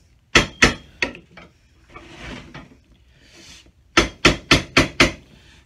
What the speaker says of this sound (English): put the welt where it is, give it a tap with a hammer